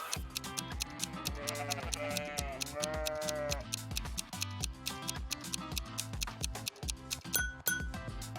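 A sheep gives a wavering bleat that rises and falls over several seconds. It is partly masked by bouncy background music with steady ticking percussion that continues throughout.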